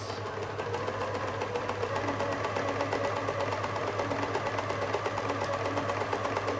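Pfaff 1525 classic style domestic sewing machine running a stretch stitch program, giving a steady close motor hum with a fast, even mechanical needle rhythm throughout, no voices.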